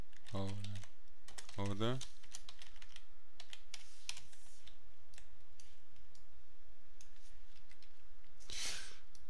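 Fast typing on a computer keyboard during an online MMORPG session, crisp close clattering keystrokes in two quick bursts, then scattered single taps with a brief word spoken.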